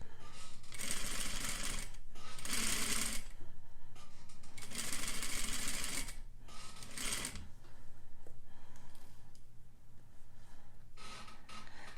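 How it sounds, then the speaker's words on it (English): A sewing machine slowly stitching bias facing around a curve, running in short uneven bursts with stops and restarts, close and steady. "So I'm just continuing to sew around, kind of watching that guideline that I found for myself on my machine"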